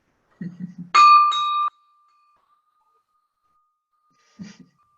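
A single bell is rung as a Rotary club meeting donation, giving one clear, sustained ring that fades slowly, with brief murmuring voices just before it and again a few seconds later.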